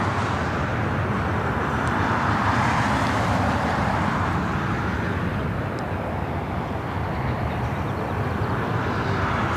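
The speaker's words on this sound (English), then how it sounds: "Right up next is that United Dreamliner" A United Boeing Dreamliner airliner at LAX gives off a steady, broad engine roar that holds level and fairly loud throughout, a continuous wash of jet noise with no voices.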